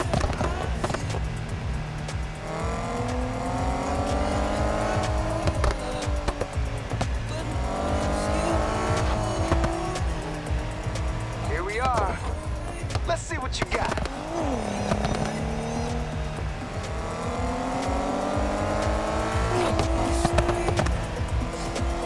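Race car engine in Need for Speed Heat during a daytime race, revving continuously with rising and falling gear sweeps and brief tire squeals, loud and close throughout.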